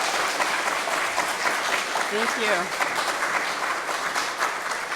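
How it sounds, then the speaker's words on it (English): An audience at a Sunday church service claps steadily for the graduates, a dense, continuous round of applause from a crowd nearby, and a voice briefly speaks over it. "let's give our graduates a round of applause"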